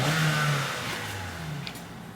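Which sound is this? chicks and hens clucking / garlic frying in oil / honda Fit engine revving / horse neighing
honda Fit engine revving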